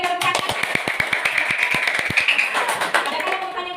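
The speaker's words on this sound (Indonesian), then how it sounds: "kita berikan tepuk tangan." Classroom applause for a student group, a burst of quick uneven hand claps from a crowd of pupils that carries on for several seconds, with chatter mixed in toward the end.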